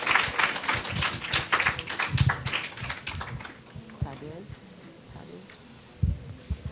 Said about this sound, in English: Round of applause for Eric Gidel.